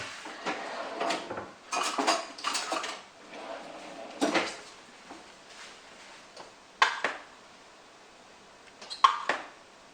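Cooked rice scooped out of a rice cooker bowl: irregular scraping and clinking of a utensil against the bowl, in short bursts with a few sharper taps, close and moderately quiet.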